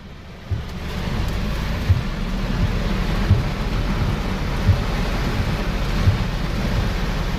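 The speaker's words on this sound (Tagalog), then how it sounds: "Lakas ng ulan." Heavy rain pours steadily with deep rumbling thunder throughout, a few sharper low thumps standing out every second or so.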